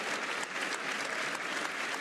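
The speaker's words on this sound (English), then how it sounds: "the people you hear clapping are the heroes" An audience in the European Parliament claps, a dense, even burst of applause from many hands that holds steady from start to finish.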